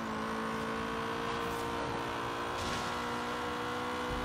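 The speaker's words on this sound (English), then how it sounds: "Now in high RPMs, this thing sounds very much like a Honda Civic with VTEC." A car engine in the Forza Horizon 3 racing game, tuned as an offroad rally build, holds high RPM in a steady, buzzing drone of moderate loudness with no break.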